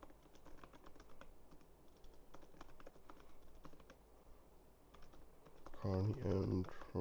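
Keys clatter in uneven bursts on a computer keyboard, close and moderately quiet, with a voice speaking near the end.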